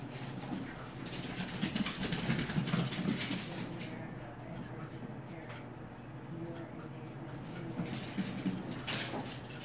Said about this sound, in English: Dogs are in play mode.